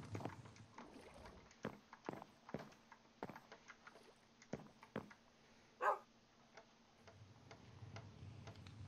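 A pet dog in the Minecraft video game gives a single short bark, fairly faint, amid soft scattered clicks and ticking in an otherwise quiet scene.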